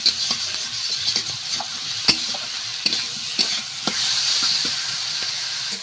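Tomato masala with salt and turmeric sautéing in a pan, steady sizzle and hiss with a spatula stirring and scraping in irregular knocks, close and clear, no talking.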